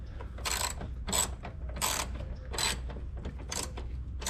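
A ratchet tightens a body-panel bolt on a Pontiac Solstice, Saturn Sky or Opel GT, several close, bright clicking bursts at a steady rhythm over a low background hum.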